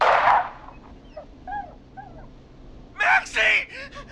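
A dog in the video game Killer Frequency barks, whimpers and yips in short bursts, close and fairly loud, with a speaking voice between the bursts.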